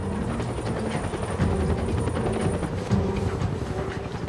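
A helicopter passes close overhead, its steady rotor chop and engine drone loud and continuous throughout, with no voices.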